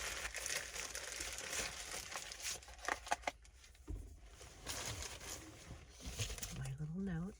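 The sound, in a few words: opening a box, crinkling packaging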